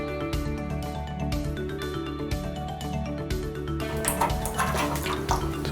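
Water draining from a disconnected supply line on an electric water heater, a continuous splashing, trickling flow that grows brighter and more turbulent toward the end, close and steady with no talk.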